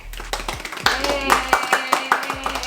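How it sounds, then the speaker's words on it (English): A small audience gives a brief, sparse round of clapping for guests on a casual talk show. A handful of separate sharp claps sound close by, with some talking mixed in underneath. "Do a little clap"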